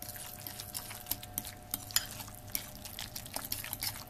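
Guacamole gets mixed in a bowl with a utensil, giving soft, quiet, irregular scraping and clinking taps in a steady rhythm, with no talking.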